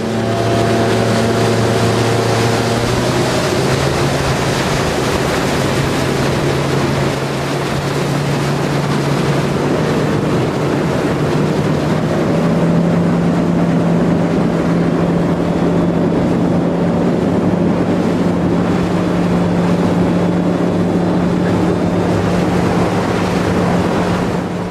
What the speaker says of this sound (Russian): и лодки уходят в набор скорости.